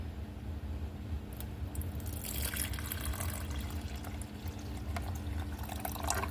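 Liquid silicone is poured into a measuring cup, giving a soft, steady trickle and splash close by that thickens partway through and carries on over a low background hum.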